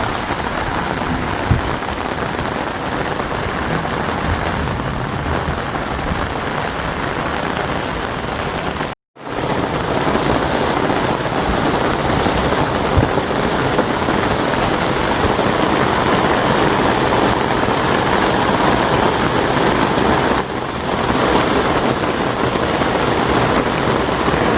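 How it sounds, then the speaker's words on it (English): Steady rain pours in a constant, dense hiss close by for the whole stretch, with a brief dropout near the middle before resuming unchanged. "Kind of sounds like rain, doesn't it?"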